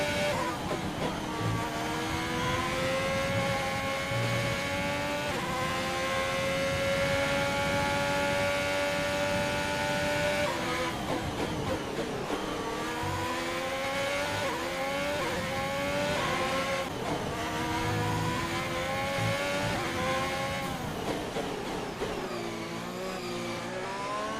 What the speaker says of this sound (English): This car is handling absolutely perfectly, and although it's very easy to spin, it's going around the corner so smoothly.